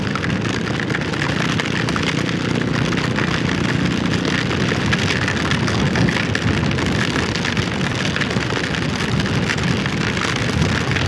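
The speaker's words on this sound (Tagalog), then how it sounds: "Tapos pagdating dito umulan na." Steady heavy rain pours down on a campsite during an overnight motorcycle camping trip, a loud continuous hiss of drops striking surfaces close by, with no voices throughout.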